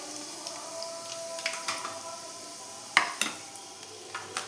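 Cumin and fenugreek seeds fry in hot oil as the base for a fish curry. A soft, steady sizzle runs throughout, with a few sharp clinks and scrapes of a spoon against the pan.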